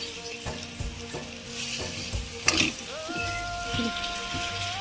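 An egg and potato mixture sizzles steadily in a hot pan as it is stirred, with scraping and tapping strokes over the constant frying hiss. Faint background tones and some voices sound in the room.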